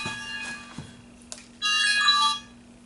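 A phone rings with a short electronic ringtone burst lasting under a second, clear and fairly loud after a few faint knocks, with no talking.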